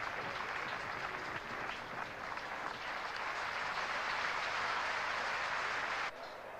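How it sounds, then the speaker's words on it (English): Steady roar of crowd applause from a cricket test match crowd at Perth, Australia v England, 1978, sustained and broad for several seconds before dropping slightly near the end. "Great roar of applause from his local supporters here"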